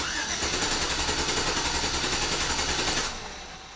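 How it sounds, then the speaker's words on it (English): A Chevrolet Silverado with misfire and EVAP leak codes cranks without starting, accelerator floored: a loud, rapid rhythmic starter churn held for about three seconds before cutting off, up close. "So the engine should just crank, it's not gonna start."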